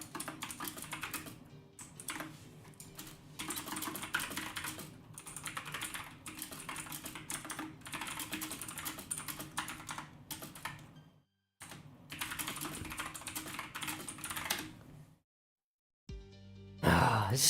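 Steady computer keyboard typing runs almost without a break, with brief pauses near the middle and end and a loud burst at the close. No one speaks over it.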